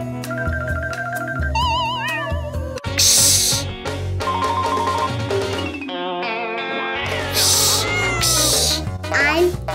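A child imitates a cat, meowing over a busy, effects-laden cartoon soundtrack. Several wavering meows rise and fall among chimes, whooshes and bursts of music, with talking mixed in.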